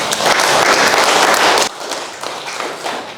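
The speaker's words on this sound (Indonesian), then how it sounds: "beri tepuk tangan" A classroom of students gives a loud burst of applause for about a second and a half during a matrix maths lesson, then the clapping drops off into scattered lighter claps and murmur.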